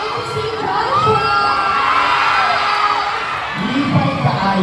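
A crowd at a mall event with a celebrity appearance cheers and shouts loudly and continuously, high-pitched screams and whoops from many fans swelling together, close and energetic throughout.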